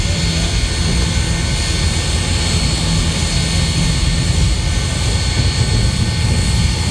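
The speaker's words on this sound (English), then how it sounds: "Of course, as the locomotive comes around," Steam locomotive 4501, repainted from Southern livery as a Norfolk and Western engine, turning on a turntable, gives a loud, steady rumble and hiss that runs unbroken and close throughout.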